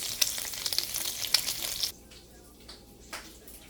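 Food sizzles and crackles in a hot pan, loud at first with small pops, then the frying quiets abruptly to a softer hiss.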